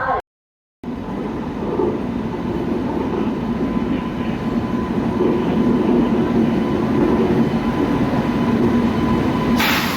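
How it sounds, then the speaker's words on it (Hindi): Tejas Rajdhani Express pulling into a station platform in India, a steady loud rumble of rolling rail cars with a faint high whine, continuous throughout after a brief gap at the start. "12309 न्यू दिल्ली तेजस राजधानी एक्सप्रेस राजेंद्र नगर से चलकर न्यू दिल्ली को जाने वाली कुछ ही समय में प्लेटफॉर्म क्रमांक 1 पर"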